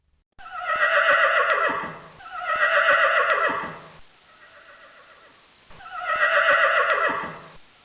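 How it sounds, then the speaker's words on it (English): A horse neighs three times, each one a loud, close, shaking whinny lasting nearly two seconds and falling away at the end, with a quiet pause between the second and third. "Horse."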